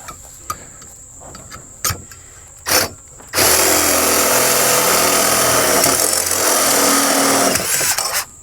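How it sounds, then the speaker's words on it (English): A power drill bites into a bolt on a ROPS bar after a few short clicks and knocks, then whines loud and steady for about five seconds before easing off. "See if I can drill it out."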